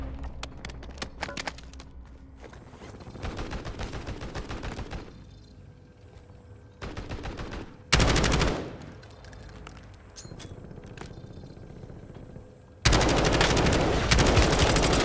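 Gunfire in Call of Duty: Warzone, with rapid automatic bursts and volleys coming in several loud clusters separated by short quieter gaps, some close and punchy, others more distant.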